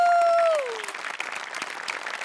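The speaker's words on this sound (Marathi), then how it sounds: "डांगे, दशरथ आणि आपले सगळे सेटिंगवाले यांच्यासाठी एकदा जोरदार टाळ्या" A studio audience at a comedy show bursts into loud, sustained clapping as a held musical tone fades out at the start.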